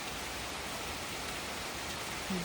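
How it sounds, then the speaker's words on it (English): Heavy rain pouring down outside, a dense, loud, unbroken hiss of rainfall with no gaps from start to finish. "But it's pouring really hard right now, so hopefully it'll clear up"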